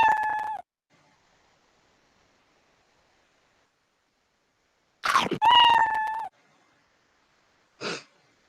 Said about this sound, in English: you will hear the completely, and then the meow sound completely